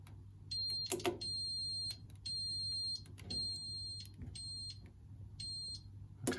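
An Apollo XP95 fire alarm system sounds its pre-alarm as a loud, high electronic beeping tone in repeated bursts of roughly a second each, with short gaps between them, over a steady low hum and some clicks.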